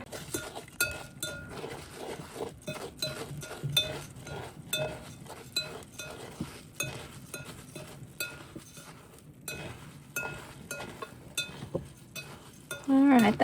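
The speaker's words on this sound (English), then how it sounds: "it said to whisk this together" Whisk beating ingredients in a bowl, a rapid run of light clinking taps against the sides, close but quiet, with a brief louder clatter at the end.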